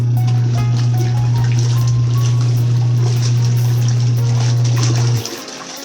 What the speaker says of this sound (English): If you know that your clothes are not spinning, it's because you have too much clothes in the washing machine.